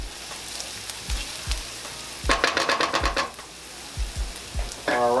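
Butter and olive oil frying together in a pan for beef stroganoff, a continuous sizzle broken by soft thumps and a burst of louder crackling spatter midway.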